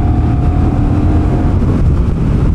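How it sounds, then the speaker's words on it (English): Honda Rebel 1100 cruiser motorcycle engine pulling under throttle, a loud steady low rumble with heavy wind buffeting over it, continuous for a couple of seconds with no speech. "Throttle response is pretty good on the Rebel 1100."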